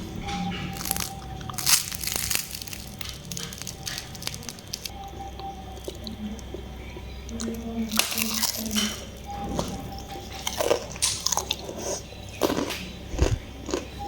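Bites into crispy fried stuffed tofu (tahu isi), several crunchy, squishy bites and chewing sounds scattered over a quiet kitchen background, close to the listener with brief moments of talk.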